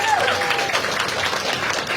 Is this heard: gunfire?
no